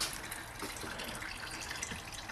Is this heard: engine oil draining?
yes